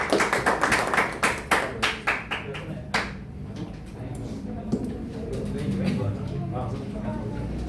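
A group claps in a classroom presentation setting, a dense burst of hand claps that thins into scattered taps and fades within a few seconds, leaving a quiet room murmur.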